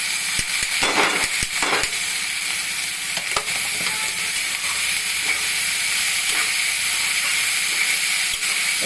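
Drumstick flowers and chilies frying in a pan with browned potatoes, giving a loud, steady sizzle and hiss throughout with a few stirring clatters near the start.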